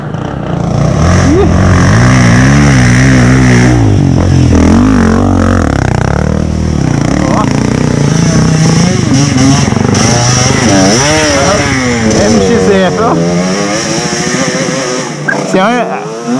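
Trail motorcycles arriving on a dirt trail at the first trail ride of 2022 in Nova Serrana, Brazil, one with a burnt clutch, their engines droning and revving loudly throughout under excited talk from people nearby.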